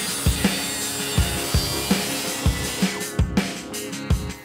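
Saw cutting through wood during garden shed roofing work, a steady buzzing cut punctuated by regular sharp knocks roughly every half second, fairly loud and close with no talk.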